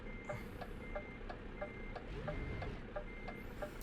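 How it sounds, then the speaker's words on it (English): Reversing beeps from a Greyhound bus backing up in American Truck Simulator, a steady evenly spaced beeping repeated about a dozen times over a low engine rumble. "Brake in. Backing up."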